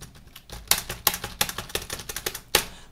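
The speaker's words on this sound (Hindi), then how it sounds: "मैं कुछ टाइप कर रहा हूं" Computer keyboard typing in a session working in Microsoft Word: a run of clicky key taps in uneven rhythm, a few sharper strokes standing out, close and fairly quiet with no talking.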